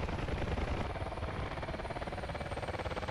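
Rotor noise from a Mi-28 Havoc attack helicopter in the DCS World combat simulator, a steady rapid blade thump with a dense droning roar, loud and continuous throughout with no voices.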